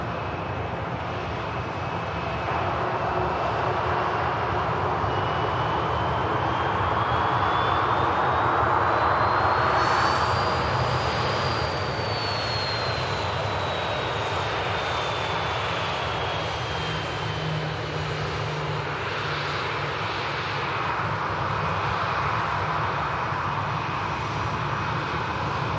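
Airliner arriving from Antalya touching down at Manchester Airport, a sustained loud engine roar with a rising and falling whine that swells in the middle and then eases, heard from outside.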